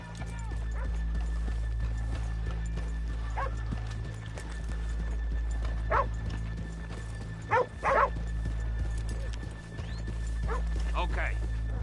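Horse hooves clip-clop in the Red Dead Redemption 2 game, irregular and mid-distance beneath a continuous low rumble, with a dog yipping and a voice talking over the scene.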